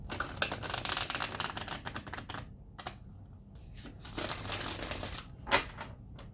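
Crisp, rapid riffling and flicking of tarot cards, bursts of shuffling with short pauses between, close and fairly quiet.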